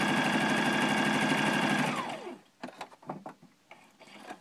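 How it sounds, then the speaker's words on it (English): A sewing machine runs steadily for about two seconds, stitching stretched elastic onto a fabric face mask with an antimicrobial lining, then stops and gives way to a few soft knocks and fabric handling. "I want to stretch that elastic as far as I can. And I want to sew it"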